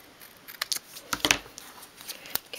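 Scissors snip through paper while trimming a flap for 1/12 scale miniature food packets, giving a handful of quick, close, quiet cuts in irregular bursts against near silence.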